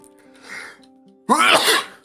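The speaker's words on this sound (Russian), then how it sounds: "Ой, немного чихаю." A character in the video game My Child Lebensborn gives a small sniffle, then a loud, close sneeze that bursts out sharply and trails off over about three quarters of a second, with faint game music humming underneath.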